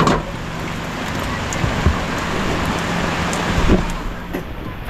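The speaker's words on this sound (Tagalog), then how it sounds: "Umulan na mga kasoyo. Ulan na naman." Rain falling steadily outdoors, a continuous broadband hiss with a few louder drips and thuds, fairly loud and even throughout with no talking.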